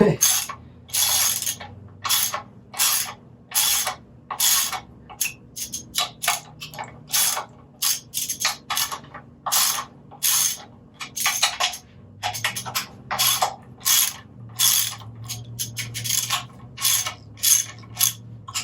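A ratchet loosens the oil pan bolts on a 32 AMG engine during a rebuild, giving steady bursts of close, loud clicking separated by short pauses, with no talking.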